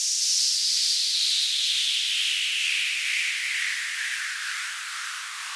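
Compressed air vents from a BG38 Boiler Gun beveling machine in one long, loud, close hiss that slowly falls in pitch and fades slightly over several seconds.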